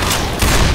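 Gunfire from the video game Left 4 Dead comes as a loud, close, dense burst of shots, with a heavier thump near the end.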